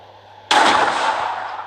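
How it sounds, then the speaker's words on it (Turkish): In a video game, a bomb's single sharp blast bursts out suddenly after a quiet hum, then rumbles and decays slowly over the next second, loud and close. "Arkada patladı."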